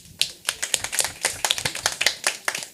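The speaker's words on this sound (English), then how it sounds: "Let's clap for her." Audience applause at a women's international conference, a crowd clapping in a steady, dense patter of sharp hand claps at moderate volume, no talk over it.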